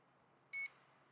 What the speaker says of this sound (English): We get our slow beep.